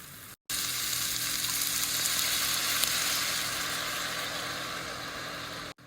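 Blanket dumplings sizzling in olive oil in a pan, a steady, loud frying hiss that starts abruptly and continues unbroken before cutting off at the end.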